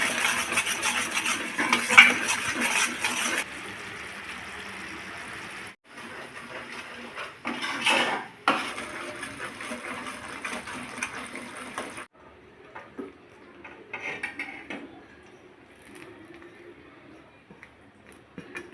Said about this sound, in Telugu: లైట్గా వాటర్ పోసుకోవాలి.